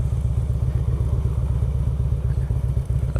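A Harley-Davidson motorcycle, a light sporty model, rides along with a loud, steady low engine rumble that beats in a fast, even rhythm close by and without a break.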